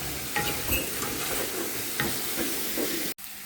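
Eggs cooking in a pan of spice masala that has already been fried down, giving a steady close sizzle with stirring scrapes, then a brief silent gap near the end.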